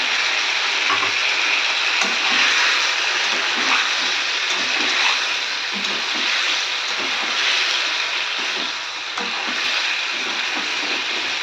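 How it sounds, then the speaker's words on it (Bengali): Turmeric-tinted water goes into spices frying in a pan, giving a loud, unbroken sizzle and bubbling with occasional scraping stirs close by. "তো দিয়ে দেবো এবার জলটা, হলুদ দেওয়া।"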